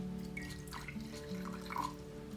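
Warm water at about 70 degrees poured into a matcha bowl (chawan) to warm it alongside the bamboo whisk (chasen), a faint, soft trickle with a steady low hum behind it.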